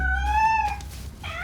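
A cat meows loudly and close by, one drawn-out tonal cry followed by a shorter second meow.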